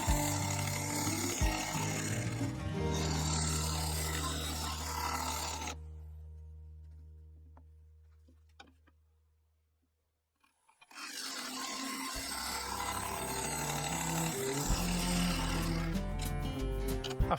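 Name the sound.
carbide finisher shaping inside of ash wood bowl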